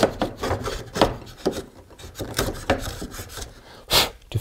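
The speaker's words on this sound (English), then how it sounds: "And I can use my router plane" Repeated rasping, scraping strokes of a router plane shaving a wooden dado, close by, in an irregular rhythm of short pushes.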